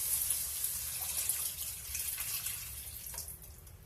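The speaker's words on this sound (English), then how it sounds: "we're going to add 2 cups of veggie broth to the pan" Vegetable broth poured into a cooking pan, a steady close liquid gush running unbroken for several seconds with no voices.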